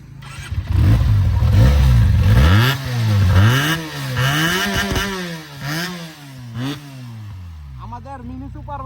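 A Benelli mini superbike is revved hard, its engine note sweeping up and down in a series of loud, close throttle blips before settling toward idle, with a voice briefly audible under the engine.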